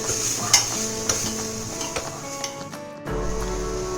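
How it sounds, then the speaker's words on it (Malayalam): Masala with garam masala stirred in a pan for pasta, a soft sizzle beneath several light scrapes and clinks of a spoon, close by, with a brief pause before the frying hum returns louder. "എന്നിട്ട് നമുക്ക് നന്നായിട്ട് ഒന്ന് ഇളക്കി കൊടുക്കാം."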